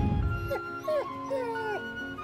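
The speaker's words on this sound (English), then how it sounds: "Dogs." Dogs whimper and yip in a short run of high, wavering whines, close and fairly clear over a low rumble at the start.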